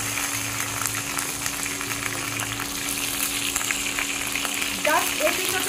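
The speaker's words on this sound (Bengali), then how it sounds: "হালকা করে ভাজতে হবে, বেশি কড়া করে ভাজা যাবে না।" Paneer cubes fry in hot oil with a steady, close sizzle and crackle throughout, and a brief clatter of stirring near the end.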